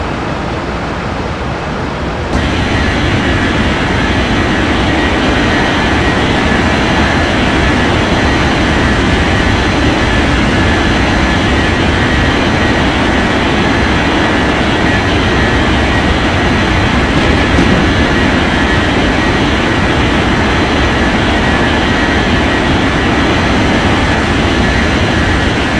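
A steady, loud jet-engine roar from an airliner landing on runway 27 at Ngurah Rai Bali International in the Unmatched Air Traffic Control 2023 game, rising abruptly after a quieter start and holding constant for over twenty seconds with no talking.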